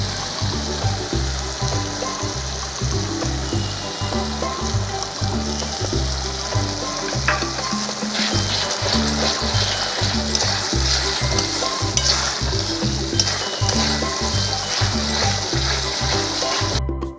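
Cumin and black pepper paste frying in a pan for chicken curry, a steady close sizzle and crackle with stirring scrapes running throughout, no talk.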